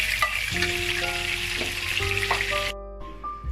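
Pieces of tuna fish frying in an oil-filled pan, a steady close sizzle with some scraping and tonal clinks; the sizzle cuts off sharply near the end, leaving quieter background.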